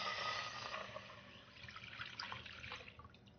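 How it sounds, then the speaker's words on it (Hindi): Milk poured into a nonstick pan for basundi, a steady liquid splash and trickle that starts loud and eases into a softer, uneven pour with small bubbling drips, close by with no talking. "पहले इसमें दूध डाल दीजिए।"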